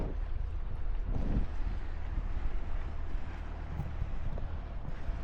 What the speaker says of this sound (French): Mais il y a du vent, il y a un petit vent, quoi.